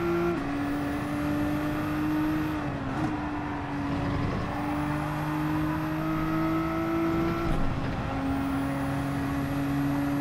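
Race-car engines of a Porsche and a Nissan GT-R in the Gran Turismo 7 racing game, a steady, close engine drone held at high revs with brief pitch dips at gear changes, and no voices.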